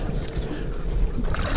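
Superjet stand-up jet ski skimming across open water, a steady rushing churn of hull and spray with wind buffeting the microphone throughout, close and fairly loud with no talking.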